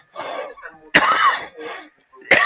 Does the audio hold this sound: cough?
yes